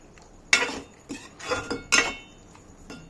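Spoon scraping and clinking against a pan while mushroom masala gravy is stirred, with four or five distinct close metallic strokes in an uneven rhythm and quiet gaps between them.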